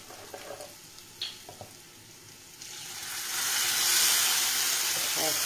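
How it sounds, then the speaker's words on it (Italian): White wine splashes into a hot pan of guanciale for basmati rice with artichokes, and a loud, building sizzle and hiss rises after a few light clinks, close up with no talk over it. "Adesso una spruzzatina di vino bianco"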